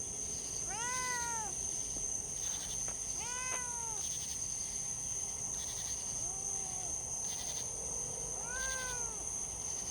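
A cat meows outdoors several times in short, rising-and-falling calls, two close together early on and softer ones later, over a constant high insect-like whine and quiet background.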